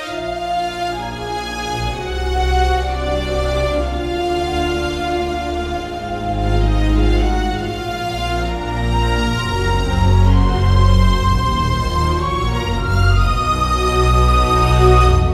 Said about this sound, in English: let's hear the strings and the ocarinas